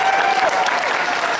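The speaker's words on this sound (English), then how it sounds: "So how about a huge round of applause for the charity department?" A crowd claps loudly and steadily for a charity department at a charity auction during a convention, a dense, continuous wash of applause filling the whole moment with a few voices mixed in.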